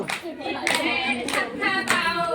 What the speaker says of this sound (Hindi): ताली हाथ से बजाओ